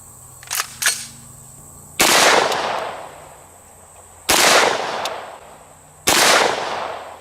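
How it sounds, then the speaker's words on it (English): Three sharp, loud 10mm shots from a CMMG Banshee striking an iron dumbbell, spaced about two seconds apart with ringing decays, preceded by a couple of fainter clicks and impacts. "Now let's hit it with a few rounds of 10mm using our CMMG Banshee."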